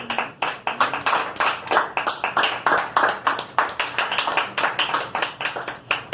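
A church congregation claps together in a steady rhythmic beat, loud and sustained, with no talk over it.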